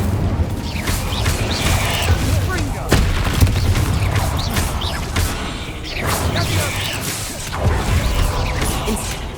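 Incendio fire spells flare repeatedly in Hogwarts Legacy during a busy catacomb fight, with loud whooshing bursts and booming impacts following one another over several seconds, mixed with voices and combat noise.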